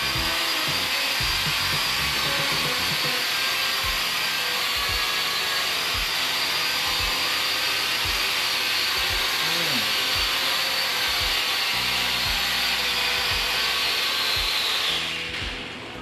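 A camera drone with a TV-screen controller flies on a survey run, giving off a constant high-pitched whirring buzz with a few low thumps under it. It keeps going the whole time before fading slightly at the end.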